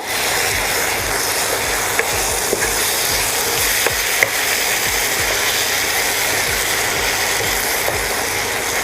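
Steady frying sizzle with scattered scraping and clicking of a ladle mashing tomatoes against a pan for butter chicken, continuous and close, no voices.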